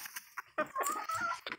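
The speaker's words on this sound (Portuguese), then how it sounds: "As galinhas já tá tudo já se ajeitando já pra dormir já." Chickens on a small rural farm plot cluck and murmur softly as they settle in for the night, a short, fairly quiet burst of close fowl calls with faint background noise.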